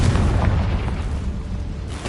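A Confringo fire-blast spell detonates in Hogwarts Legacy, a deep, loud booming explosion rumbling continuously through the whole stretch and tapering only slightly toward the end.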